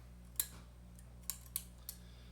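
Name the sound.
scissors cutting rope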